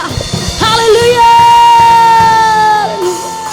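A church congregation at a Sunday worship service cheers loudly, with one long, sustained shout or whoop rising over crowd noise and a brief ripple of voices before it.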